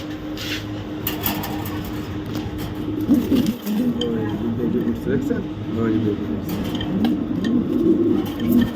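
Racing pigeons cooing in repeated low rolling calls through the second half, under steady background noise and nearby talk.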